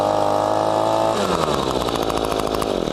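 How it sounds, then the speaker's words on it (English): A gas-powered leaf blower runs loud and close throughout, its two-stroke engine a steady buzzing drone that shifts to a higher, throatier rev partway through with a fluttering rhythm, with no voices heard. "A gas-powered leaf blower like this can create over 90 decibels of noise."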